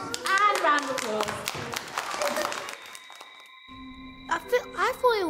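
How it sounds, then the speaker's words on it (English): Young children clap in a round of applause for a classroom lesson, a busy patter of small hands mixed with children's voices, then a pause and a few scattered claps near the end. "And a round of applause."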